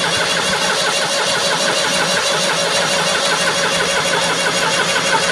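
A Perkins 332T diesel engine cranks over steadily while its injectors are bled, giving a loud, continuous mechanical churn with no breaks and no voices.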